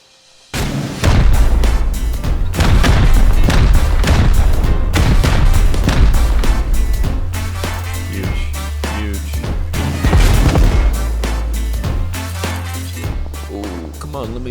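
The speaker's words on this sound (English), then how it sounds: "Just follow my rockets." Rocket launches and explosions in the video game Rust, a dense run of loud booms and bursts crowding nearly every second, layered with heavy low rumble and game noise, with voices talking over parts of it.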